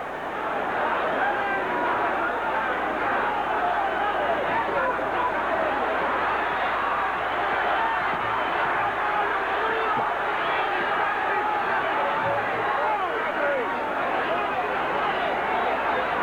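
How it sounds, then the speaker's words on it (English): Boxing arena crowd roaring continuously for home fighter Kosie Smith during a bout with Victor Galindez, a dense, loud wall of shouting and cheering that holds steady throughout. "Crowd is shouting him home."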